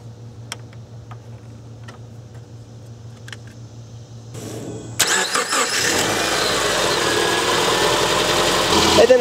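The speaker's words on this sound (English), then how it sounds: "We'll start the vehicle and check for leaks." A Subaru car engine cranks and catches after transmission oil cooler line work, then settles into a steady running idle; faint ticks and workshop noises come before the start.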